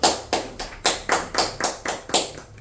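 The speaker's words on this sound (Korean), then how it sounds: "박수." Quick, evenly spaced claps of applause at a Friday noon worship service, about ten in a steady rhythm, close and fairly loud with no voices.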